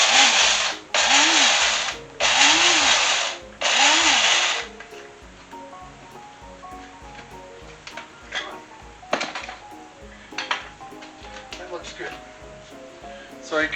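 A small electric grinder crushes whole spices for a pastrami crust in four loud, whirring bursts with short gaps between them, then falls quiet while someone talks.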